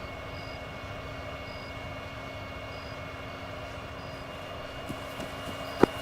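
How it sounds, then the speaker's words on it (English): A helicopter passes over a military position, heading east: a faint, steady engine drone that hangs in the background, with a couple of sharp clicks near the end. "an helicopter just passed over our position heading east"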